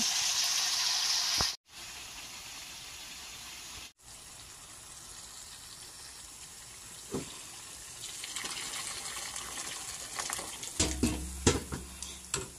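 Pork sautés in a pan with onion and garlic, giving a steady low sizzle under occasional stirring scrapes, which grow busier and clattering near the end.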